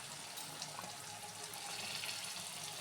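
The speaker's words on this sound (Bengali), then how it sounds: "আমি মিক্সিটা ধুয়ে জলটা দিয়ে দিচ্ছি।" Water runs and splashes as a mixer grinder jar is rinsed in a kitchen while cooking shahi matar paneer, a steady close hiss of flowing water lasting a few seconds.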